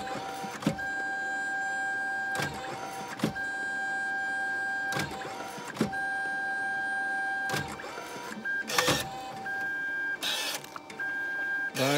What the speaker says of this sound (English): now we'll try another test page, print test page.